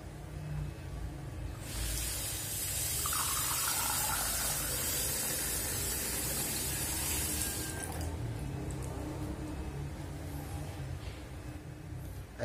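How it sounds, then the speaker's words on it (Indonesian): Water rushes steadily from a bottle into a glass as air is blown through a straw, forming a sustained gushing pour of several seconds over a constant background hiss. "Airnya langsung berpindah ke dalam gelas."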